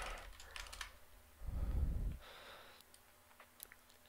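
Keys clatter on a computer keyboard while a sudo command is typed, a few quiet taps followed by a short, denser burst of keystrokes and scattered faint clicks afterward, close and soft.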